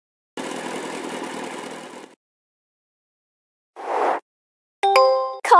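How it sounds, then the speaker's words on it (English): A steady engine rumble runs for about two seconds and cuts off, followed after a pause by a short burst and a bright chiming tone. "Motorbike."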